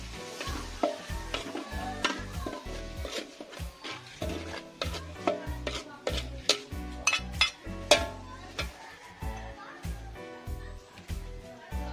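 Tomatoes sautéing for mechado in a pan with margarine, a steady sizzle broken by frequent sharp clinks and scrapes of a utensil stirring against the metal, close and busy throughout.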